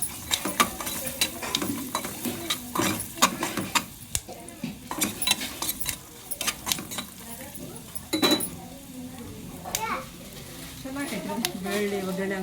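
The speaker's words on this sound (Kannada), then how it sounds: "ಇದು ಬೆಳ್ಳುಳ್ಳಿದು ಒಗ್ಗರಣೆ ಕೊಡಕತ್ತೀನಿ" Garlic tempering sizzles in a hot pan for rice while a metal spoon scrapes and clatters against it repeatedly, close and busy throughout, with a voice speaking now and then over the frying.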